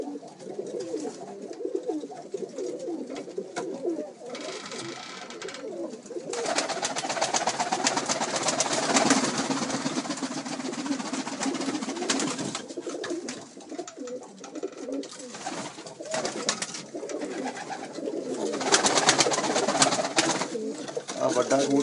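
Inside a pigeon loft holding a large pure-bloodline pigeon, many birds coo in a thick, constant murmur while someone talks over them, with louder noisy stretches rising and falling throughout.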